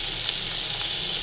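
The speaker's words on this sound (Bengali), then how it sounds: "পটল ভাজা হোক।" Pointed gourd (potol) frying in hot oil in a pan, a steady close bubbling sizzle that runs continuously without a break.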